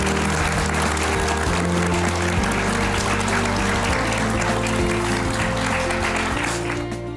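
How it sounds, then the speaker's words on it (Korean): A large audience at a lecture event gives a long, loud wave of applause that runs without a break until it tapers slightly at the end, with music playing underneath. "우리 오동석 여행 작가님에게 다시 한번 큰 박수 보내주시죠"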